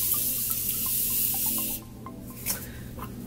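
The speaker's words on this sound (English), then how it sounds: "I use the Morphe Continuous Setting Spray, so I just put a little bit of that on." A hissing burst of Morphe Continuous Setting Spray onto a face for nearly two seconds, then stops abruptly, followed by quieter soft rubbing and a brief rustle.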